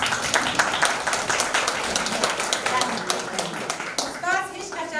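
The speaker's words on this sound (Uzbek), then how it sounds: "Ham mana shu ustozimizni hammamiz olqishlab qo'ysak." A crowd applauds a teacher at a school celebration, steady clapping of many hands filling the first four seconds, then fading as a voice speaks over the end.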